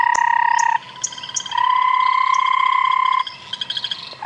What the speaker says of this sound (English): have any of you managed to guess which frog is making all of this noise?